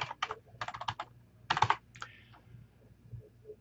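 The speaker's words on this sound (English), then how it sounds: "I give the software my YouTube login name and password" Keys clatter on a computer keyboard as a login name and password are entered, in quick clustered bursts of taps with short pauses, close and fairly quiet, no talk.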